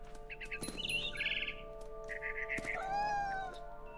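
Small birds chirp and tweet in the video game What Remains of Edith Finch, short high calls in bursts alongside cat-like meows and a sustained tonal backdrop, fairly quiet.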